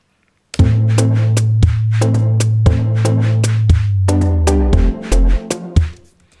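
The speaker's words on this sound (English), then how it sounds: "Here's a sine bass." A deep, smooth sine bass synth from Logic ES2 plays sustained low notes beneath a pop track with sharp rhythmic percussive hits, loud and up front.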